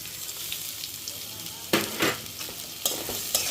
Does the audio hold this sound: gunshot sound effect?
no